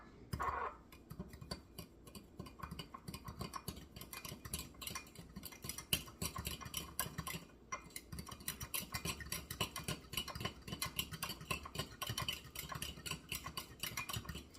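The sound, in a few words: mixing rice pudding ingredients in a bowl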